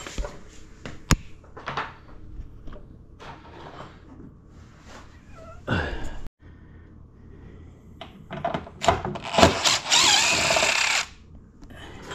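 An angle driver works a stuck 5/32 bolt loose during a turn signal install on an RMAX, with short bursts of whirring and clanks of metal on metal. A longer, louder burst of the tool comes near the end.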